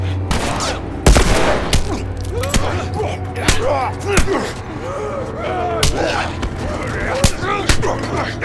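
Video game gunfire rings out in a string of sharp, loud shots at irregular intervals, with scattered impacts and voices talking between the bursts.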